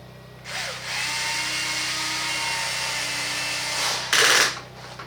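A power tool whirs steadily for about four seconds while tightening a wheel nut on an Axial Wraith RC truck, then revs briefly louder before stopping.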